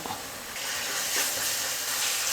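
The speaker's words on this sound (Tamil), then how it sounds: "1 ஸ்பூன் இஞ்சி பூண்டு பேஸ்ட்டு போட்டுக்கிறேன்." A spoonful of ginger garlic paste frying among softened onions in a pan for chicken varuval, giving a soft, steady hiss and sizzle up close with light stirring and no talk.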